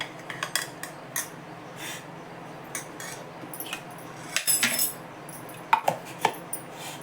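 A knife cutting mango in a home kitchen, with scattered light taps, scrapes and clinks of blade and utensils against a plate or board, soft and irregular, no talk.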